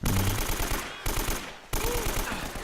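Rifle gunfire in Uncharted: Drake's Fortune comes in loud, close bursts of rapid automatic shots separated by brief pauses, with a low tone in the background.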